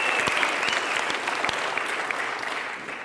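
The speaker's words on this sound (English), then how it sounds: "Give yourselves a round of applause." An audience at an entrepreneurs' talk in Cape Town applauds, a loud sustained burst of clapping from a roomful of people that slowly tapers.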